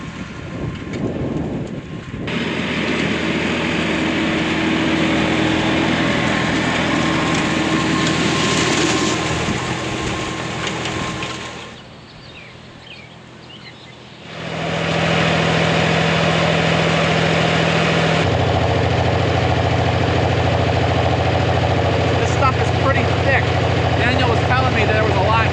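A heavy tractor engine rumbles steadily up close on a hay farm, a continuous low drone that dips briefly midway before resuming, with wind-like noise layered over it.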